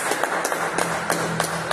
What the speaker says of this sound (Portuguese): Vamos bater palmas para o nosso Senhor Jesus